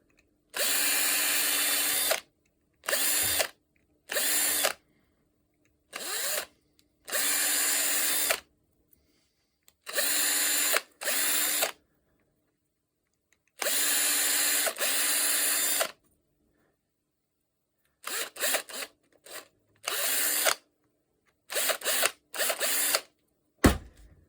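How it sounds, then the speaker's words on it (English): A power drill drilling out holes in robot hand knuckle and palm parts whirs in repeated short bursts, starting and stopping irregularly with silent gaps between, close and fairly loud. "First of all, drill out the holes."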